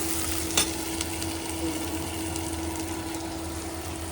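Paneer bhurji frying in a pan while being stirred, a steady soft sizzle with a low hum and an occasional scrape of the spoon, continuous and fairly quiet.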